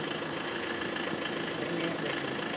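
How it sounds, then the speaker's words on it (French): A car engine idles steadily nearby, a low continuous rumble with faint knocking texture and no change in pace. "Il faut couper le moteur aussi"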